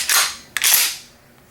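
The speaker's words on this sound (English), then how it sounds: "you can rack it again if you hold it down" A Remington 870 Express pump-action shotgun racked up close: two sharp, loud metallic clacks about half a second apart, then quiet, with no voices.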